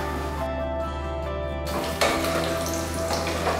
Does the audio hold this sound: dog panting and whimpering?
no